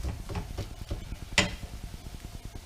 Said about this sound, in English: Start to sizzle, might have to turn it down straight away.